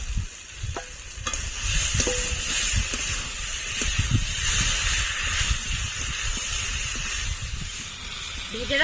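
Jackfruit and potatoes frying in a spiced masala in a pan, giving a steady sizzle with stirring scrapes throughout, close and fairly loud, with no talking.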